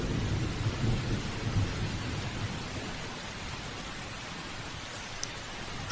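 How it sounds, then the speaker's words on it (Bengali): Steady rain and a low rolling thunder rumble fill the scene, loud at first and easing into a softer, even downpour toward the end, with no voices. "অমনি আবার বৃষ্টি শুরু হয়"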